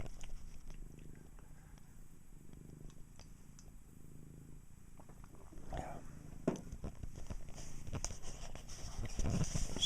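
A cat purrs softly and close by in a quiet room, a low continuous rumble broken by occasional rustles and small handling noises that grow busier toward the end.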